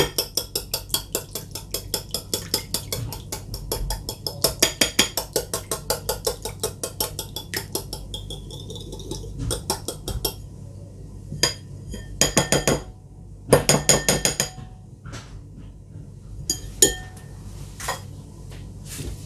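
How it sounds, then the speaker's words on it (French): A utensil clinks and taps against a bowl in quick rhythmic runs while melted butter and egg are mixed for cookie dough, close and crisp, with pauses and a few isolated knocks later. "On va venir casser l'œuf à l'intérieur. Bien mélanger le tout."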